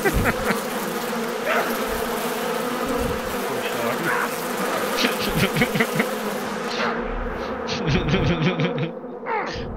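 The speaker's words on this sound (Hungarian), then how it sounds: "Megvárom még, elmennek a legyek." Flies buzzing in the Far Cry 5 video game, a dense, loud, continuous swarm drone with rising and falling whines close up, thinning out near the end.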